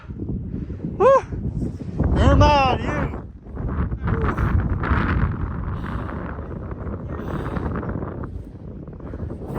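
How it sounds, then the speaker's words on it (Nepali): Wind buffets and rumbles against the microphone in gusts on a hilltop in Mustang, Nepal, while people talk and call out over it. "हावा"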